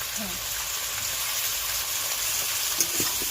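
Spices with coriander powder frying in a pan for a Bengali tuna curry make a dense, even sizzle close by, with faint stirring scrapes underneath.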